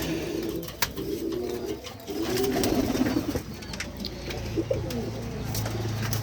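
Sirazi cross pigeons, a big male among them, coo in low soft repeated phrases close by, with some rustling and faint background noise.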